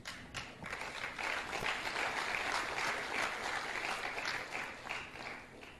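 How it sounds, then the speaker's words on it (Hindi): Audience applause at an Amway business seminar, steady dense clapping from a crowd that holds at an even level for several seconds without fading. "इस बात पे जो तालियां बजाई तो दिल खुश हो गया मेरा।"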